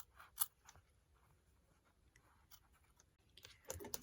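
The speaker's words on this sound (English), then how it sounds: "I grab just one side and I cut a half of the seam allowance away" Scissors trimming away half the seam allowance on a sewn collar of a classic women's shirt or blouse: a few faint, quiet snips, one near the start and a cluster at the end, with soft rustling of fabric between.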